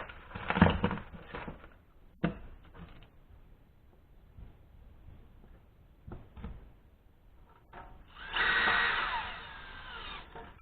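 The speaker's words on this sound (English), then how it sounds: "And I'll put some screws in there." A power drill drives screws into a laser-cut firestop kit tin, with short sharp bursts and clicks scattered through a quiet stretch, ending in a longer whirring run of the motor.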